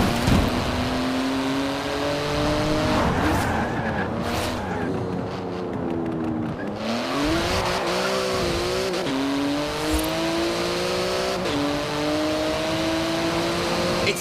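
A Porsche GT2 RS with titanium exhaust in the racing game Forza Horizon 4 revs hard through repeated upshifts, its engine note climbing and dropping with each gear, with brief tire squeal, loud and continuous.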